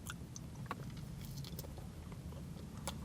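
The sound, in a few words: biting and chewing buttered white toast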